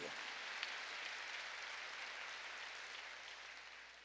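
A church congregation applauds during a sermon. Many hands clap in a dense, even patter that holds steady for a few seconds, then eases slightly toward the end.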